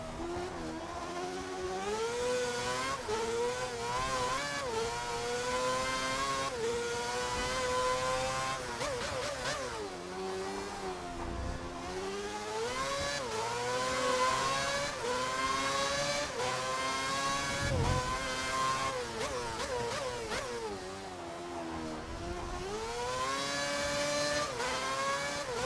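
A Formula 1 car engine revs continuously in an F1 video game at Bahrain, running hot, pitch climbing and falling with gear shifts, loud and steady throughout.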